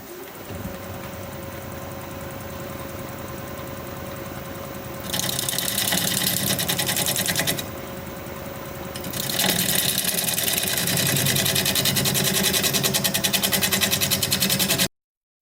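A wood lathe spins a mulberry piece while a tool cleans up cuts along its bevel, a steady loud motor drone with harsher rising scraping passages as the tool bites the spinning wood, no voices.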